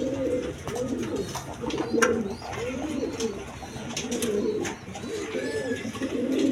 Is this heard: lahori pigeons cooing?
yes